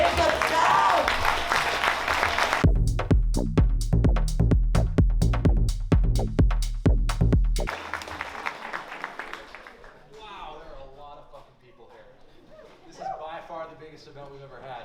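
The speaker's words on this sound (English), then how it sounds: "I want all of you all to start clapping slowly and then gradually clap louder" A live audience at a college comedy showcase claps in unison, starting with slow, evenly spaced loud claps that quicken over about five seconds before breaking into scattered applause and crowd chatter.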